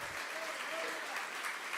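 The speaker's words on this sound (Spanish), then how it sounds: "¿Puedes dar un aplauso al Señor?" Church congregation clapping in praise during a worship service, a dense, even burst of applause from many hands sustained throughout the short moment.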